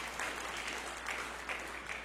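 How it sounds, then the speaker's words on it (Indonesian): A church congregation applauds during a sermon, a faint, even wash of many hands clapping that swells slightly in waves. "Berikan tepuk tangan yang meriah buat Tuhan."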